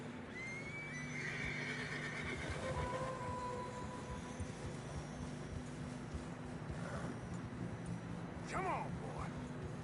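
Horses whinny and neigh several times on a snowy mountain trail in Red Dead Redemption II, with hooves plodding and clip-clopping underneath, while voices talk over the scene.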